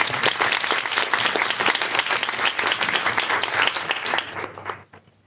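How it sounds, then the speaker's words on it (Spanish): Steady, dense applause from the audience at a presentation of legislative proposals on child support, greeting Jimena López, then thinning out and fading near the end. "Les pido un fuerte aplauso para Jimena López."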